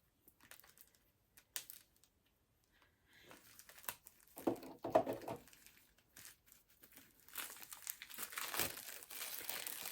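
Plastic packaging around a fabric bundle of fat quarters crinkles and crackles in bursts, quiet at first and then louder and busier, close up with no talking.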